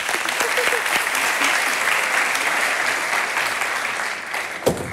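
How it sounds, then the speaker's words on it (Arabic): A studio audience at a TV entertainment show breaks into loud, dense applause that holds steady for several seconds before tailing off at the end. "تصفيق على سميه الحثروبي"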